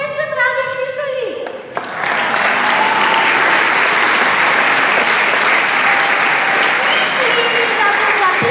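Audience at a children's choir concert bursts into loud, sustained applause after a brief opening moment, a dense clapping wash that holds steady to the end.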